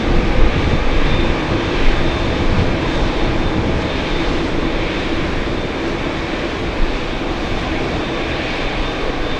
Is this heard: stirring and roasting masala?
no